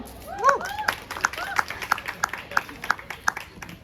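Rhythmic audience clapping in time as a singer takes the stage, about ten evenly spaced claps over a noisy room, with a voice calling out over the start.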